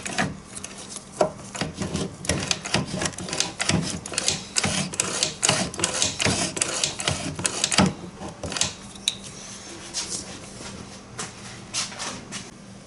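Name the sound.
Yamaha PW50 kick starter being activated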